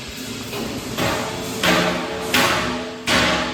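A roller conveyor shot blasting machine running in production, with loud continuous industrial rumble and hiss broken by periodic surges and thuds roughly every two-thirds of a second to a second.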